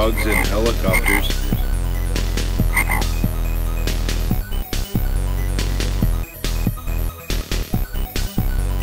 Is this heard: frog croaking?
yes